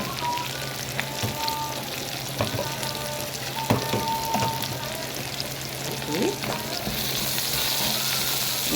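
A pepper and onion fry together in a pan, giving a loud, steady sizzle throughout with occasional spoon scrapes and taps against the pan.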